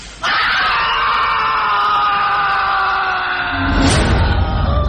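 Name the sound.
terrible scream sound effect in horror story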